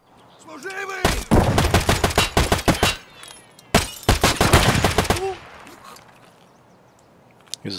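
Gunfire in the video game Escape from Tarkov, two loud bursts of rapid full-auto shots about two seconds each, separated by a brief pause, with faint talk before and after.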